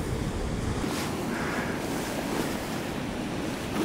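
Steady, loud wind roars across an open seashore with surf washing beneath it, a constant rushing that buffets the microphone throughout with no voices.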